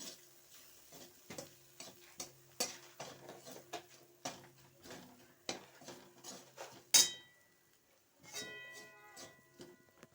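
Spices for dal are stirred in a pan with a metal spoon, producing a series of irregular close clinks and scrapes with quiet gaps, one sharp louder hit, and a faint ringing tail near the end.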